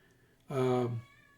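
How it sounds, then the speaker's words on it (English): A house cat lets out one clear, drawn-out meow close to the microphone in an otherwise quiet room. "I apologize for this cat. Man, he just won't stop."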